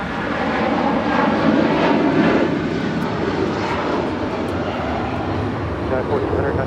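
Asiana airliner taxiing through a turn at LAX, a loud continuous engine roar and whine throughout, with a voice talking over it.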